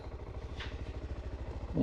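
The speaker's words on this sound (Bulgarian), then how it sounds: "аз опитвам да мърдам напред-назад мотора, но 150 кг никак не са малко" A 150 kg motorcycle rocked back and forth on a mountain track blocked by fallen trees, its engine idling in a steady low throb with a brief scrape partway through and a louder burst at the end.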